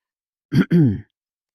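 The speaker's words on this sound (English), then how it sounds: "The Earl coughed ferociously." A single short, rough throat-clearing cough from a man, two quick bursts close together, alone in silence.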